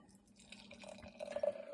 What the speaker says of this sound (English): Let's pour this out.